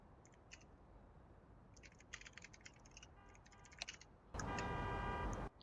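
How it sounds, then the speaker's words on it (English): Quick keystrokes on a computer keyboard while writing a short chat message during a Counter-Strike 2 session, scattered clicks in small bursts, close but quiet, followed by a loud steady burst of sound near the end. "Or you're gonna type one like something like this."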